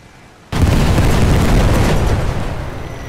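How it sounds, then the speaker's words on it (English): A heavy, loud boom erupts suddenly from hand grenade explosions in The Great War 6.0 video game, followed by a sustained roaring rumble that slowly fades over a couple of seconds. "Hand grenade time!"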